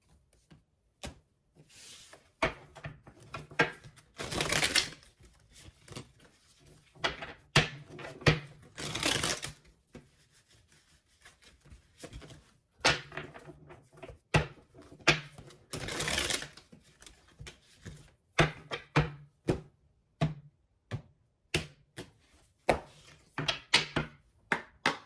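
A deck of tarot or oracle cards being shuffled by hand, quiet, close bursts of riffling and flicking that come and go in irregular clusters with pauses between them, no talking.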